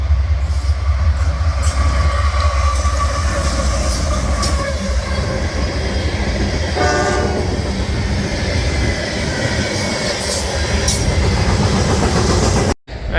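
A CSX freight train, led by heritage unit locomotive 1850, rumbles past close by in Euclid, Ohio. Steady wheel noise and clickety-clack carry on, with brief wheel squeal partway through.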